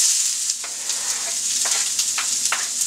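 Garlic and onions sauté in butter in a pan for kapustnica soup, a bright steady sizzle with several short stirring scrapes spaced through it, close and clear, no voices.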